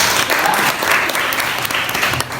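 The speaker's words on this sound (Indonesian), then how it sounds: "Oke, tepuk tangan semuanya." A room of students claps together during a geography teaching-practice lesson, a loud, dense burst of applause that holds steady and thins slightly at the end.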